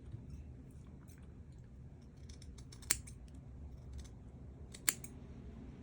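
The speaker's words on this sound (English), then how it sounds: "trim the top nice and flat so it sits flat" Scissors trim shrimp fly-tying material flat at close range, two sharp distinct snips a couple of seconds apart over a quiet, low room background.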